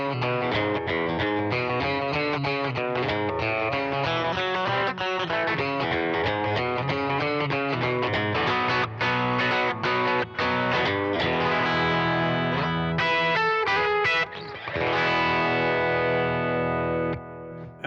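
Eastman T64/VT electric guitar through a phaser pedal, strummed and picked in a busy run of chords and notes with a swirling, distorted effect, ending on a ringing, sustained chord.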